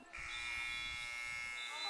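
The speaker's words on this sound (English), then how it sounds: "And the buzzer sounds." A sustained electronic buzzer tone sounds for about two seconds at a high school boys' soccer match, over faint background noise.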